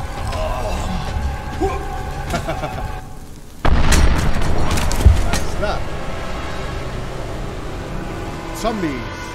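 A grenade goes off in The Beast Inside horror game, a sudden loud boom with a splintering burst that rumbles and fades, set among game noise and someone talking before and after.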